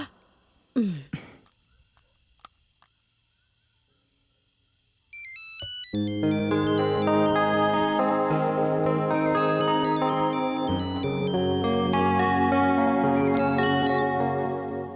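A phone plays a melodic ringtone while a call to an uncle is being placed. After a brief rustle and a quiet gap, the tune rings out loud and continuous for about ten seconds.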